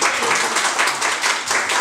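An audience at a public hearing in Ilhabela claps in a brief, dense burst of applause that stays steady and fairly loud throughout.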